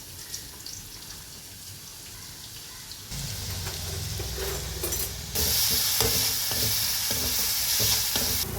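Ground garlic and shallots fry in hot coconut oil, a steady sizzle that swells louder in two stages as the paste hits the pan, with faint stirring scrapes and no voices.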